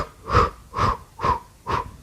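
Four slow, even breaths with a soft wheezy rasp, taken close up during an abdominal curl exercise, each breath rising and fading in a steady rhythm with no talking.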